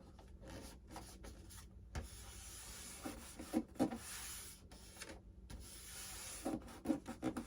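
Soft, repeated rubbing as parts are pressed down by hand on a Dynam Beaver V2 1500mm model airplane build, quiet scraping strokes coming in short bursts, close up.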